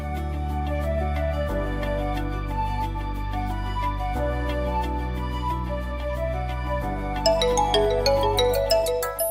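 A mobile phone ringtone plays loud and steady for about nine seconds, a looping electronic melody over a thick bass line with bright chime-like notes rising near the end, in a domestic Hindi drama scene with no talking.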